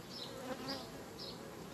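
A continuous, dense buzzing of many honeybees in a hive compartment, steady and fairly close, with no talking.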